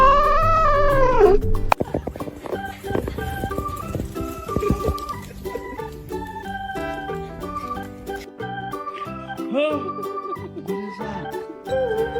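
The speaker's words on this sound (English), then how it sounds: "My cat and I just be having conversations that nobody will understand, like meow." A pet cat meows in a run of drawn-out, tonal calls that rise and fall, close and clear, with short pauses and quieter chirps between them.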